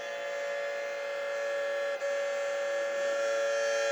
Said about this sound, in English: Now this siren doesn't last too long because it's a fire siren.